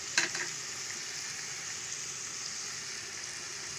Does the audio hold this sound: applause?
no